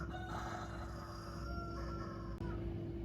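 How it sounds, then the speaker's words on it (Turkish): A rooster crows clearly in Bursa, Turkey, a drawn-out call rising and falling, with a steady hum in the background and no talking. "Horoz var. Gayet de güzel bir horoz."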